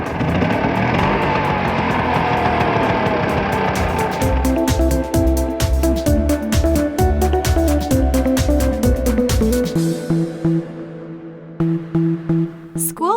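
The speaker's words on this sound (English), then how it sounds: "Auto rickshaw." An auto rickshaw engine runs steadily, then settles into a throbbing, rhythmic putter with a tonal hum, continuous and close throughout.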